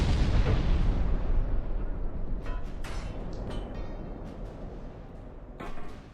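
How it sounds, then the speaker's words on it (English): Battleship guns firing in a naval warfare game: a heavy rumbling blast opens and slowly fades, followed by a few sharper distant cracks and one more low boom near the end. "Every one of those shots hit."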